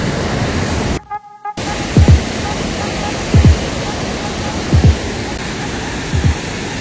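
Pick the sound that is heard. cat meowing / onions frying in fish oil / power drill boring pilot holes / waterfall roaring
waterfall roaring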